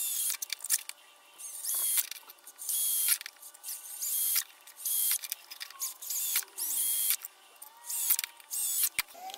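A small power drill whirs in short, repeated bursts, close up, drilling holes in a box, with brief pauses between each run and light scraping of material.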